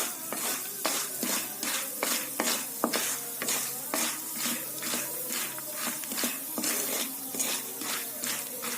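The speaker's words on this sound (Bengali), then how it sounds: "তেলটা একদম গরম হয়ে যায়, তখন ভুট্টাটা দিলে ভালো হয়" Corn frying in very hot oil, a close, continuous sizzle broken by regular scraping stirs in a quick, steady rhythm.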